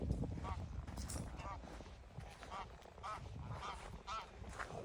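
Repeated honking quacks from several ducks on a lake, moderately close, over a steady outdoor wash with some voices in the background.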